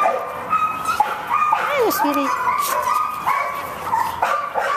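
A puppy yips and whimpers in high, wavering cries, close by, while someone speaks softly over it.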